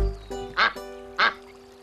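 Ducklings in a children's TV show give two short, bright quacks about half a second apart, standing out over a steady background of sustained musical tones.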